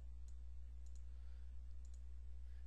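Mouse clicks while setting up tags in a software interface: a few faint, sparse clicks over a steady low electrical hum.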